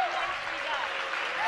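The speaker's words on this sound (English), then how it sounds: "a welcome reaction from the Lenape home crowd" Home crowd cheering and applauding in a high school gym after a Lenape boys basketball win, a broad sustained roar of voices and clapping, loud and even throughout, with an announcer's voice over it.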